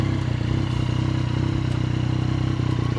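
A 2019 Yamaha Tracer 900 GT with 17,000 miles runs steadily at close range, its engine a loud, continuous low throb with a mechanical clatter on top and no talking.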